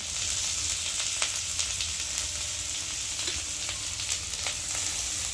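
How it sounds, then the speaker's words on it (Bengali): Steady, close sizzling of chopped onion in a pan with faint intermittent stirring scrapes, a continuous hiss of frying without any voices. "এবার আমি দিয়ে দেবো পেঁয়াজ কুচি।"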